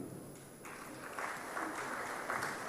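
An audience applauds and cheers a Sokoto State governor at a governors-elect induction programme, a soft, fairly distant patter of clapping that swells slightly and stays steady.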